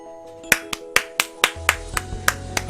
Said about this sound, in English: I'm clapping. I'm clapping.